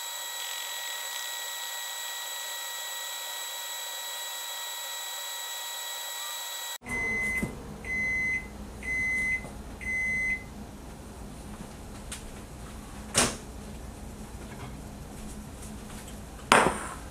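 A microwave oven hums steadily while heating breakfast for four minutes, then four evenly spaced electronic beeps sound, followed by quiet room noise with a couple of sharp clunks.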